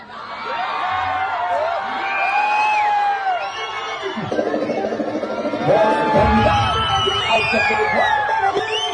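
A crowd of fans at a public event in Gubbi for the actor Gilli Nata shouts, whoops and cheers loudly, with overlapping yells rising and falling and surging again near the end.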